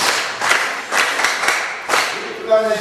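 Classmates in a science lesson clap for a student who answered correctly, a few bursts of group hand clapping in uneven waves, followed briefly by a voice at the end.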